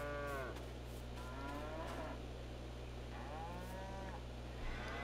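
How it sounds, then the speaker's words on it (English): Several cows moo in Farming Simulator 22, three or four long, drawn-out lowing calls at moderate distance over a steady low hum, with no talking. "All right, so those are our 15 cows."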